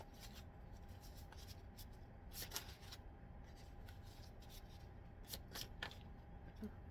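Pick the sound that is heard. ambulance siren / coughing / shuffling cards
shuffling cards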